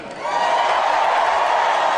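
Loud crowd at the Republican National Convention cheering and whooping in a dense, sustained roar that swells in quickly and holds steady at full volume.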